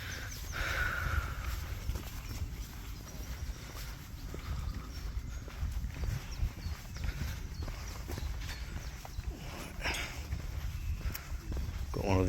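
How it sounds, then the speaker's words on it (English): Horse hooves clip-clop at a walk on a countryside path in the Chess Valley near Rickmansworth, steady and fairly close under loud wind noise, with people talking nearby. "Got one of these horse things."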